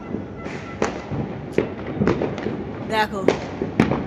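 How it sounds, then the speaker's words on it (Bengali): Firecrackers burst all around in sharp, scattered cracks and pops, some near and some farther off, over a constant outdoor hubbub while a person speaks. "এমনি চারদিকে শুধু বাজি ফাটছে।"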